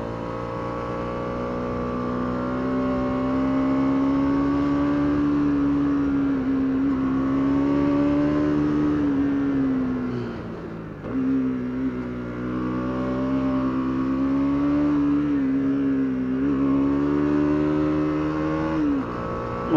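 A Bajaj Dominar 200 motorcycle (2025) climbs a mountain road uphill, its engine droning steadily and loudly with rising and falling revs through gear changes, briefly easing off near the middle before pulling hard again.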